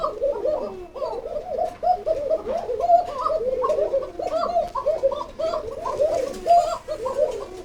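Caged kokka pigeons coo at close range. Many low, rolling calls overlap in a steady, continuous chorus with no talking.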